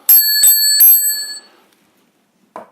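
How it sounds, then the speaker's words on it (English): A meditation bell struck three times in quick succession, each clear ringing tone overlapping the last and then fading out slowly, followed by a single short knock near the end. "So 3 bells."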